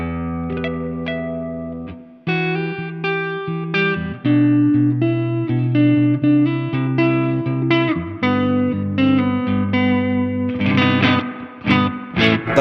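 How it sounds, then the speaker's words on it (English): Electric guitar played through a Laney Lionheart Loudpedal with its digital spring reverb, sustained chords and melodic lines ringing out with a splashy, dripping reverb tail, loud and close with no talking. "the reverb is a spring, so when you can hear the dripping"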